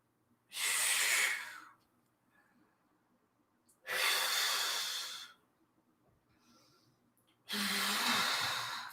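Deep, forceful breaths during a mat Pilates exercise: three long, loud, airy exhalations close to the microphone, each about a second long, separated by quieter pauses.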